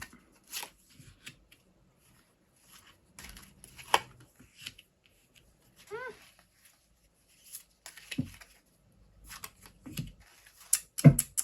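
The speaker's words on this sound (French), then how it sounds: "Hop, j'ai des cartes qui sortent, il y en a beaucoup trop. Je coupe." Tarot-style playing cards being cut and shuffled by hand, soft scattered riffles, slides and taps in short bursts separated by quiet gaps, close and faint.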